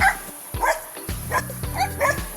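A puppy barks in short, high yips, about five sharp barks spaced roughly half a second apart, close and fairly loud over a quiet rural background.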